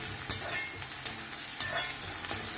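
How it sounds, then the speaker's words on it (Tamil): Onions sautéing in a pan for pasta, a steady close sizzle broken by several sharp scraping stirs, with no voices over it. "இந்த வெங்காயம் வதங்கி வரட்டும் நல்லா."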